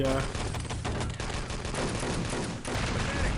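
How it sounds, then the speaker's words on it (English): Rapid machine gun bursts in the shooter game Enemy Territory during a 6on6 LAN match, dense loud rattling fire with overlapping shots while a commentator talks over it. "Ephesia taken down, and gibbed as well by the MG."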